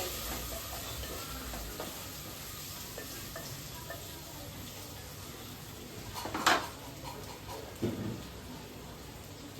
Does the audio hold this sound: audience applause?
no